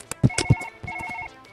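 Telephone ringing during late-night play of a surgery simulator game, two bursts of steady electronic ringtone with harmonic tones, moderately loud, following a few sharp knocks.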